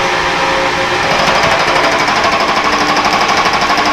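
A metal lathe taking about thirty thousandths off a Kurt vise handle produces a loud, continuous rapid rattling chatter, close and unbroken.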